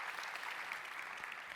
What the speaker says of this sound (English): let's give our incredible panelists a round of applause